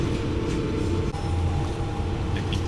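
Rumble and rattle inside a Geibi Line train in rural Japan as it brakes on a steep downhill, with steady low-frequency roar and a faint squeal throughout, no voices.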